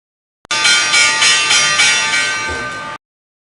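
Stock market opening bell ringing: a sustained bright metallic clang that starts abruptly, rings steadily for about two and a half seconds with a pulsing rhythm, then cuts off sharply.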